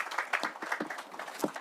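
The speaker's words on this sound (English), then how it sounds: "She deserves a round of applause." Brief burst of applause at a groundbreaking ceremony for a behavioral health teaching facility, a small crowd clapping fairly faintly with irregular claps for under two seconds.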